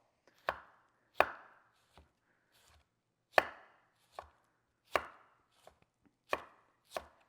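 Thin strips of slightly thawed frozen beef being sliced with a knife on a cutting board, heard as about nine crisp, separate chops spaced irregularly against silence, close and clear, with no voices.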